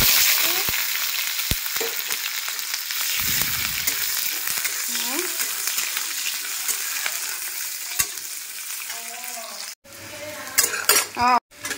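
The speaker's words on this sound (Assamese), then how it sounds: "এয়া পিঁয়াজ ভাজিলোঁ পিঁয়াজ ৰঙচুৱা হৈ গ'ল" Onions frying in a pan until reddish, a loud steady sizzle with scraping stirs and occasional utensil clinks, thinning out near the end where a few short sounds break through.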